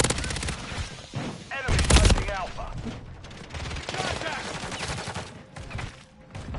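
Rapid bursts of automatic gunfire from a Call of Duty Warzone (Modern Warfare III) match, loud and close, repeating in dense volleys with a heavy boom near the middle and game sounds throughout.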